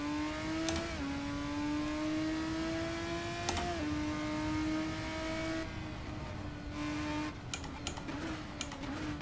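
A Formula 1 car in the racing game Assetto Corsa drives at full speed, its high-pitched engine whine holding steady, dipping briefly on gear changes, then dropping lower as it slows near the end.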